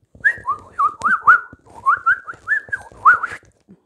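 A person whistles an imitation of a bird call, a string of about eight bright, rising and falling chirps in a quick rhythm, close and clear with no talk.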